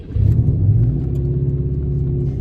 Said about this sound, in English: Put down the hood and we'll go for a test drive.